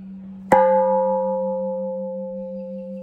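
A Buddhist monastery bell in Mandalay is struck once, a sharp close strike that rings on in a long, steady, slowly fading tone with no talking.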